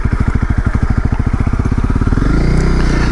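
A 2018 Honda CRF250L motorcycle engine thumps at a low, steady rhythm while riding, then revs up into a smoother, louder drone near the end, close and alone without talk.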